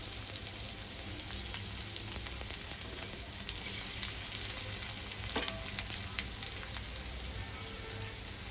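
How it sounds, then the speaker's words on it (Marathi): Cabbage cutlets fry in a pan after being flipped, giving a continuous soft sizzle and crackle at an even, fairly quiet level, close by and with no voices. "एका साइडने झाले आहेत। आता उलटून घेऊया।"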